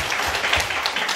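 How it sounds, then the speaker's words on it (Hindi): A church congregation applauds during a Hindi-language Calvary Church service, a short burst of dense, fairly loud clapping from many hands with no voices over it. "टीना के लिए और कल्पना के लिए ताली बजाओ"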